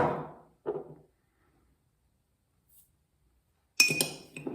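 A spoon clinks against a plain drinking glass while chia seeds go in: a soft clatter at the start, a second brief one, a long quiet gap, then a brighter, louder ringing clink near the end.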